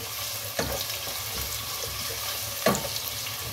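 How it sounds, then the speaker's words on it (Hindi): Sliced medium onion frying in hot oil in a pot, a soft steady sizzle with a couple of louder clatters as it is stirred. "प्याज को इसमें फ्राई कर लें।"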